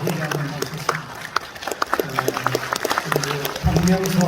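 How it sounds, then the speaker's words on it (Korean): Scattered clapping from a crowd breaks out over a low rumble, with voices talking through it, at the 2023 Gwangju 3.15 Uprising memorial ceremony as guests are introduced. "박수로 한번 쳐주시기 바랍니다"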